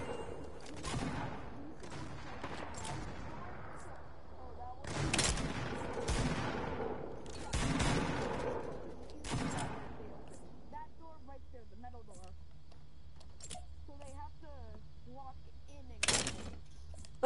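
Gunfire from a special pistol in the video game Fortnite: several loud bursts of shots with ringing tails are spread through the clip, and people talk among game effects and small melodic chimes.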